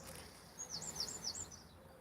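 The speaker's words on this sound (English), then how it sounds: "And birds are lovely, man." Birds chirp faintly in the distance, a short run of high, repeated sweeping tweets over a low background hum.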